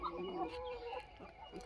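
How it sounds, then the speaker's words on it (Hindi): An Aseel rooster and desi hens cluck softly nearby in short, throaty calls, faint and brief, with some low background noise. "अब असील मुर्गा है ये मेरे पास"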